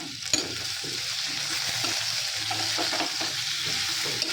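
Eggplant fries in a pan with a continuous close sizzle, steady stirring and scraping running through it, and a couple of sharp knocks against the cookware.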